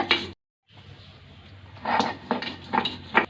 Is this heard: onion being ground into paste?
yes